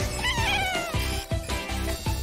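A cat meows repeatedly while chasing a laser pointer, giving loud, close, drawn-out cries in several rising and falling calls with no talking.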